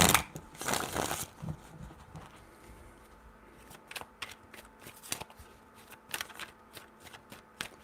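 A deck of cards is shuffled several times: a long riffle burst at the start, then quieter flicks and snaps in irregular bursts, close by.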